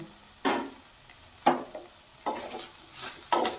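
Pasta and chicken stirred in a pan, a few separate scraping, sizzling sweeps spaced about a second apart, close and moderately quiet with no talking.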